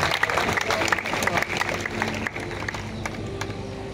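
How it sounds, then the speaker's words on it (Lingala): A large crowd claps loudly and continuously at a political event in the Congo, with dense applause mixed with crowd noise and voices, thinning out toward the end. "Il faut applaudir très fort."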